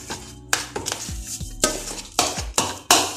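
Chicken with herbs and thyme being mixed in a bowl, making a series of sharp clinks and knocks of a utensil against the dish, irregularly spaced, close and fairly loud with no talking.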